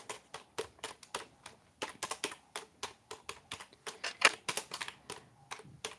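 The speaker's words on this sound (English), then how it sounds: "I'm actually getting PTSD from typing with one finger here." Single-finger typing on a computer keyboard: slow, uneven key taps pecked out one at a time in irregular clusters, close and clear with short pauses between them.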